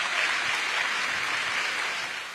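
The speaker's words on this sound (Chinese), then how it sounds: "掌声有请" An audience at an outdoor Teochew opera and variety evening, held for a village temple celebration, gives a burst of dense, steady applause that carries through without pause and tapers slightly at the end.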